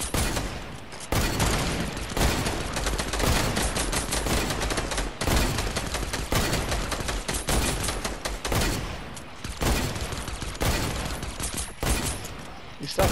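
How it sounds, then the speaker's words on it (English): Fortnite gunfire rattles in loud, sharp bursts of rapid shots separated by brief pauses, close and dominant throughout, with players talking faintly between volleys. "they're shooting at me?"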